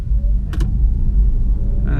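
Inside a BMW i3 Rex electric car pulling away in town: a steady low road rumble throughout, with a brief ticking click near the middle and a faint motor whine rising at the end.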